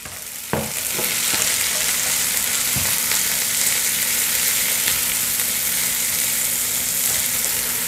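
Chopped onion drops into hot oil with garlic and bursts into a loud, steady sizzle, with a few sharp clicks and scrapes of stirring at the start before the even frying hiss carries on.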